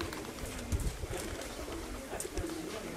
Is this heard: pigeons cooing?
yes